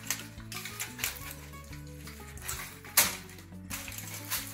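Gozleme, a Turkish filled flatbread, fries in butter in a pan with a continuous sizzle, while pan and utensil clatters and a sharp knock cut in now and then.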